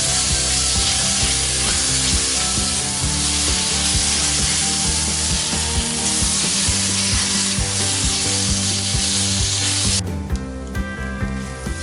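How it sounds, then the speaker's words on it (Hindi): Grated lauki halwa roasting in ghee in a pan crackles and sizzles loudly and continuously, with stirring scrapes against the pan and a brief drop in intensity near the end. "अब ये देखिए घी छोड़ रहा है, ये भून रहा है"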